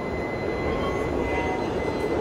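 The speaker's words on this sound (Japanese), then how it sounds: "仙台行き最初のやまびこ号はこちら" A Yamabiko shinkansen sits at a platform in Tokyo Station, giving off a steady, even rail rumble and hum with faint high whine tones, continuous and fairly close, with no voices.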